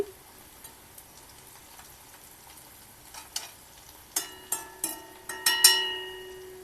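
Slices of bitter gourd (kakarakaya) fry in a pan with a faint, steady sizzle, joined in the second half by several sharp metallic clinks and taps of a utensil against the pan.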